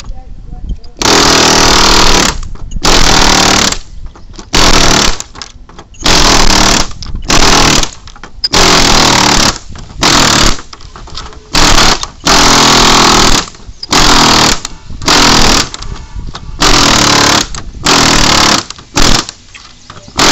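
A loud power tool cuts components off electronic circuit boards during depopulating, buzzing in repeated harsh bursts with short silent gaps between cuts.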